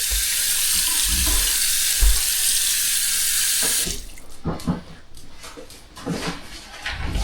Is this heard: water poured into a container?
yes